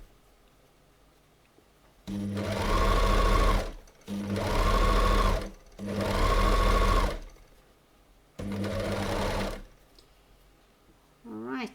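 An overlocker sewing machine stitches fabric in four loud, steady whirring bursts of about one to two seconds each, separated by short pauses, close up with no talking.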